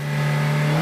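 A reasonably priced car pulls away at the start of a timed lap, its engine holding a steady, strong droning tone that stays loud and even through the short burst, with no voices.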